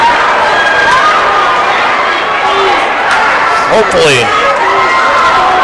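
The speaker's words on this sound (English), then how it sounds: "Crowd's into it." A crowd at a high school boys' basketball game between Wells and WCS keeps up a loud, steady roar with scattered shouts, under a commentator's voice.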